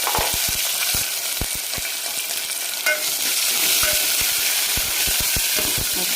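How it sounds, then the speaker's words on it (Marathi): Sliced green chillies frying in hot oil for a tempering with garlic, a steady close sizzle with repeated sharp stirring taps of a spoon against the pan, no talk. "आता एक मिनिटभर फक्त आपण हे जे हिरवी मिरची आहे ती थोडेसे चटका लागेपर्यंत आपण याला परतून घेणार आहे"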